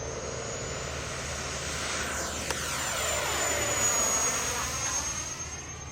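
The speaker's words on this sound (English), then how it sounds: "very scale takeoff here" A 70mm FMS Yak 130 V2 RC model jet takes off, its ducted fan giving a steady high whine and broad rush that swells and Doppler-sweeps as it passes near, then fades slightly.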